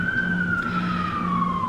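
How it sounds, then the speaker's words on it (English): A wailing emergency siren holds a steady, slowly falling tone over a low rumble of traffic, continuous and fairly loud throughout. "Sorry about the sirens."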